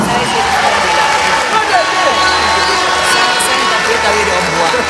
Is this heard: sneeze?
no